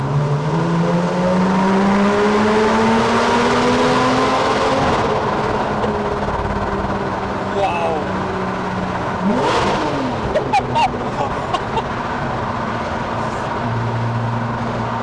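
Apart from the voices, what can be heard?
Porsche 911 991 flat six with titanium exhaust revving in tunnel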